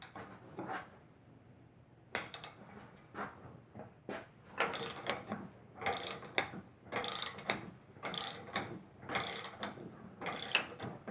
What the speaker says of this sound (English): I can take it all the way in with the socket wrench